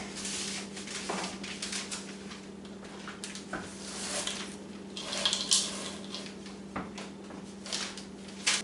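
Bacon and green onions being stirred together in a big bowl for a holiday breakfast casserole: soft, continuous scraping and clinking of utensil against bowl over a steady low kitchen hum, with a few sharper knocks.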